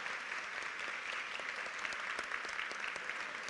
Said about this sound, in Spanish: E aí eu ia pedir aplausos